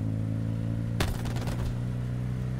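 A short burst of video-game gunfire cuts in sharply over a steady low engine-like hum, a quick rattle of shots lasting under a second before fading back to the drone.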